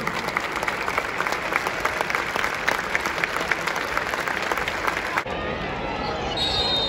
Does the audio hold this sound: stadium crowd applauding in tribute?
yes